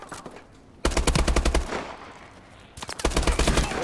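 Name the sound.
HBR assault rifle gunfire in video game Call of Duty: Advanced Warfare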